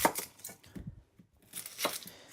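A knife chops an onion on a board for a Greek pea stew, a quick series of sharp close cuts that pauses briefly and then resumes, with no speech.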